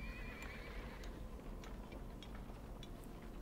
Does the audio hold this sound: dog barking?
no